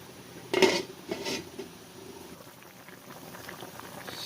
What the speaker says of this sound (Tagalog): Aking takpan muli.